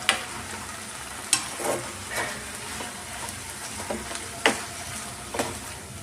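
Okra fries dry in a pan with a steady low sizzle, while a spatula stirs it in a series of sharp scrapes and knocks every second or so.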